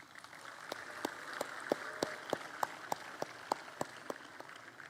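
Sparse audience applause at an Indonesian public talk about West Java, with a few distinct hand claps standing out at a steady rhythm over a soft, continuous wash of scattered clapping from a modest crowd.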